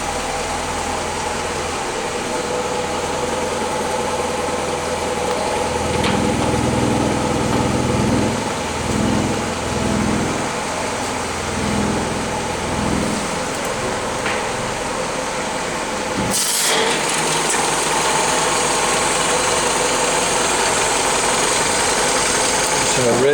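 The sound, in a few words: Willys Jeep L-head flathead engine idling after cold start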